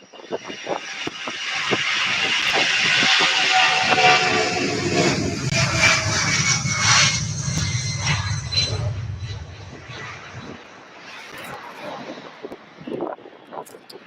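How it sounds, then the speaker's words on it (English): A Boeing 757 moves at Louisville's SDF airport with a loud, broad jet roar and deep rumble that builds, holds, then fades away. Voices talk intermittently over and after it. "Here's a 757 for y'all if y'all are 757 fans."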